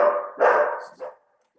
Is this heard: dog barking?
yes